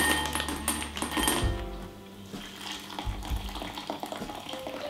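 Boiled water poured over almonds in a kitchen to blanch them for Christmas confectionery, a close, continuous pouring splash that tapers off into lighter trickling and small clinks.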